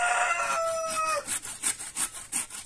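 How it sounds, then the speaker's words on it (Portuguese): A hand saw cuts through wood in a rural backyard setting, a steady run of rasping back-and-forth strokes after an opening stretch of bird calls, close and moderately loud with no talking. "Estou serrando."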